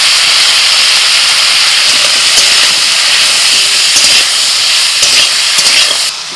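Gourd-leaf stalks and potatoes with turmeric and salt frying in a pan, a loud steady sizzling hiss that holds throughout with faint clicks, no talk.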